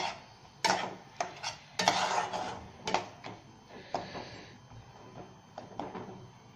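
Chicken korma masala with onion paste sautéed in a pan, a spoon stirring and scraping with soft clinks and a faint sizzle in short irregular bursts, fairly close and with no talk.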